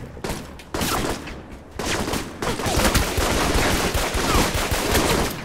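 Sustained bursts of gunfire from the video game Alpha Protocol, loud and dense throughout, with a short pause early on before the shooting resumes and keeps going as continuous rapid fire.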